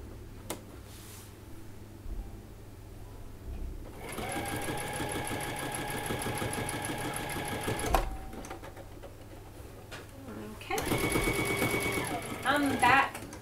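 A domestic embroidery sewing machine runs in long steady bursts while stitching in-the-hoop bunny slippers with applique, its rapid even needle chatter close and loud, stopping and restarting with short pauses between runs.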